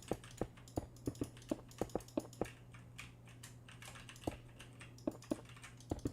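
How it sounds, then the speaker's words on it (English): Rapid bursts of clicky keystrokes from a mechanical keyboard with Cherry Blue switches, sharp taps in irregular clusters with short pauses, close and fairly loud over a low steady hum. "You guys can almost certainly hear my keyboard right now because my keyboard has cherry blues, so it's very loud."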